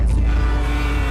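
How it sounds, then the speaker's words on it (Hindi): Loud, continuous rumble of road traffic outside, heard from indoors, with engine drone, heavy low-end noise filling the whole moment. "बाहर गाड़ियाँ चल रही है तो ट्रैफिक की आवाज आ रही है"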